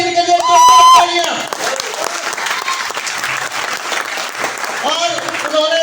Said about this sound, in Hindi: जिनके लिए तालियां